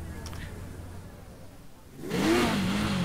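After a couple of seconds of low background rumble, a motorcycle engine revs up in the visual novel game Azanael, its pitch rising and falling as it grows louder.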